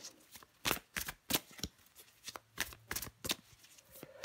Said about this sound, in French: Allez, on prend encore une carte pour vous les balances.